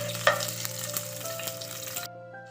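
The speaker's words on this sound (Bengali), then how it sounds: "এবার একটু আমি এটাকে ফ্রাই করে নেব।" Nigella seeds and slit green chillies frying in hot oil make a dense, close sizzle with a sharp crackle near the start, cutting off abruptly just before the end.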